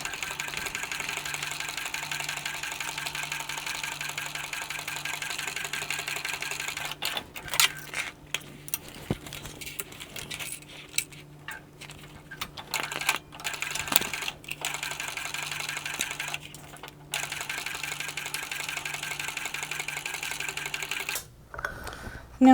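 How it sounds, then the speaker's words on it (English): A sewing machine runs in long steady bursts, stitching down both side seams of fabric tote panels, with brief pauses and a faint background hum. "We're going to stitch down both sides of the panels."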